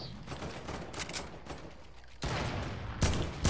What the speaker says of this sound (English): We're getting sniped at.